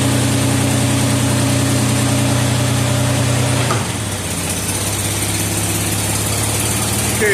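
A car engine idles steadily with a deep, even drone while the Ford C4 automatic transmission is shifted through its gears. A brief clunk and a slight drop in tone come midway, then the engine runs on unchanged.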